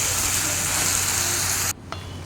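Ladies finger and grated ginger sautéing in hot oil, a dense close sizzle that cuts off abruptly near the end, followed by a faint clink.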